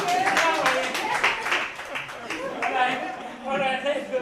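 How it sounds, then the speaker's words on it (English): A group claps for a participant at a bootcamp gathering, light scattered clapping mixed with lively overlapping voices and talk throughout. "Clap for him."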